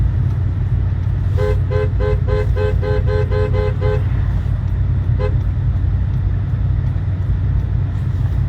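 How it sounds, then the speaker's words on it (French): A car horn from oncoming traffic toots in a rapid rhythmic string of short honks, then gives one more brief toot, heard from inside a moving car on a road with a 50 km/h limit, over steady engine and road rumble. "Les gens, ils nous klaxonnent dans le sens opposé."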